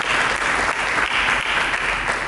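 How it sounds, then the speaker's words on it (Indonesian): Dense, sustained applause from a church congregation during a sermon, a steady wash of many hands clapping together, loud and continuous with no speech over it. "Berikan tepuk tangan bagi Yesus"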